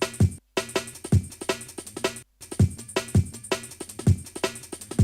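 A drum break sliced to MIDI for a jungle track, a looping funk breakbeat of punchy kicks, snares and busy hi-hats with two brief dropouts, loud and close with no voices.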